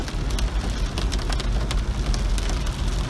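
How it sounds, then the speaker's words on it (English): Hail and rain pour down steadily during a May storm, a dense, loud, continuous hiss with small sharp impact ticks throughout and a deep rumbling undertone, with no voices. "I think the hail's coming back again"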